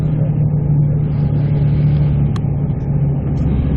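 Moving bus on a road between Guapiles and San Jose, Costa Rica, heard from inside as a loud steady engine drone with a strong low hum and a brief faint click midway.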